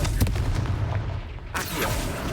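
Fire spell blast in Hogwarts Legacy, a dense rumbling burst of booms and crackles that cuts off briefly and then returns with a second flaring impact, loud and close, with no talk.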